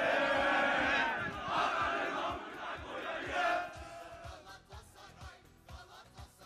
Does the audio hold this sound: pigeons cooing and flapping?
no